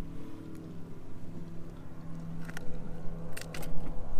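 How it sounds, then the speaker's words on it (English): An old, loud boat motor runs as a steady low drone throughout, with a few faint clicks and splashes near the end. "Maybe that old loud boat just stirs them up."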